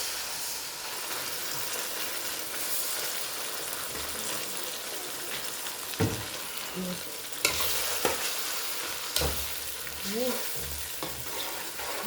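Herring frying in a pan with Maggi cubes for a Haitian macaroni dish gives a steady, close sizzle and hiss, broken by a few sharper scrapes and clatters of stirring near the end.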